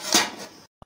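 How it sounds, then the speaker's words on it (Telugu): A lid set onto a cooking pot of capsicum masala curry gives a short metallic clatter and scrape, followed by silence and a couple of faint small knocks. "ఇప్పుడు మూత పెట్టి ఉడికించుకోవాలి."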